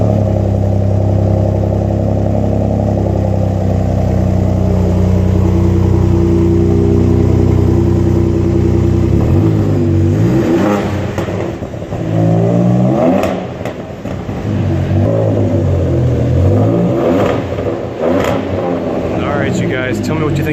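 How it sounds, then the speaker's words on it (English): A 2018 Ford Raptor with a new Borla Ford Performance exhaust idles with a loud, steady rumble, then revs in several sharp bursts that rise and fall, close and loud. "New Performance Borla exhaust started on a 18 Raptor."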